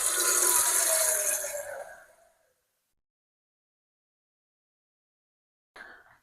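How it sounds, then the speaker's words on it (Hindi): Water pours steadily from a tap into a cooking pot for tea for about two seconds, loud and close, then tapers off into silence before a short clunk of handling near the end. "उसमें डालूँगी पानी"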